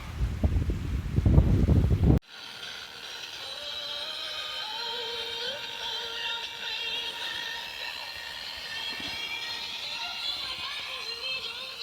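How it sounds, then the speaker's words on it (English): Steady cold wind blows and buffets the microphone with a low rumble at a night wild camp on the Isle of Arran, after a brief burst of handling noise at the start. "It's a really cold wind"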